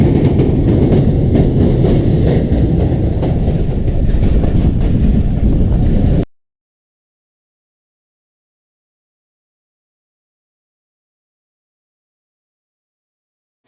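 A passenger train rolls along the rails for about six seconds, a loud, steady rumble with rhythmic clatter from the wagons, then cuts to silence.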